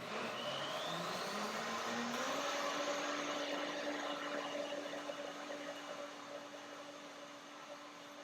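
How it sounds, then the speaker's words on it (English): A blender whirring through a date, cashew and strawberry milk, its motor pitch sliding upward in the first seconds and then holding a steady, loud hum over dense noise. "It's also good for the blender to do a second blending"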